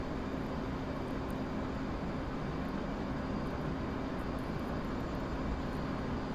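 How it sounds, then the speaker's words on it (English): A simulated aircraft engine drones steadily in a flight simulator game during braking. The noise is even and continuous with no talk. "Okay, braking"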